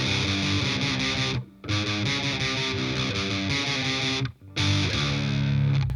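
A distorted electric guitar plays a heavy riff in sustained, dense power-chord notes. The sound is loud and close, with two short silent breaks between phrases.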